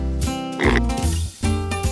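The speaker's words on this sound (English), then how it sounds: "A pig says oink," A pig gives a couple of short, nasal oinking grunts, close and fairly loud, with a brief pause between them and no other sounds around.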